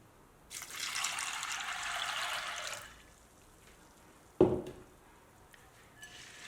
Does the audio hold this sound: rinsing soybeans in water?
yes